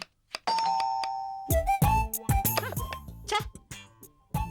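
A two-tone electronic doorbell chime rings out, followed by clattering household noises and a short burst of voices and movement.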